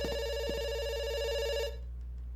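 A telephone rings in the video game Dr Langeskov, The Tiger, and the Terribly Cursed Emerald, with a steady electronic tone that cuts off partway through, leaving quiet.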